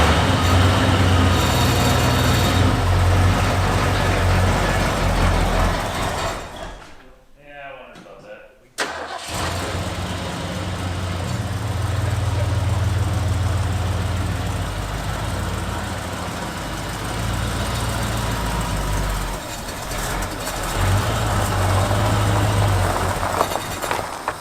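A long-parked Ford Ranchero's engine cranks and fires, then settles into a loud, rumbling idle close by, with a brief drop in sound midway before the running engine returns.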